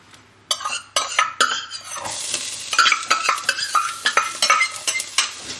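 Chopped ginger and garlic sizzle in olive oil in a home kitchen pan while a utensil stirs, with repeated sharp metallic clinks and scrapes over the close, crackling fry.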